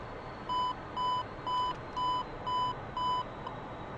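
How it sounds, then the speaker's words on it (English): A steady electronic beep repeats six times at an even pace, each tone short and clear over a constant low hum, in the F-14 cockpit of the DCS World flight simulator game. "You hear that little beeping right there?"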